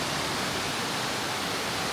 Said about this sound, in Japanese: 来ました、瓜生の滝。